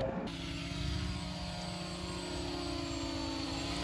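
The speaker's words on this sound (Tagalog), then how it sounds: "Magpapalipad si Edwin ng drone niya." A steady propeller buzz hums outdoors, a constant whirring drone with no talking over it.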